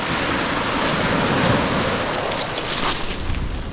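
Sea waves wash onto the shore at Hengistbury Head in Dorset, a loud, steady surf roar mixed with wind buffeting the microphone, with the breaking swell rising and falling close by.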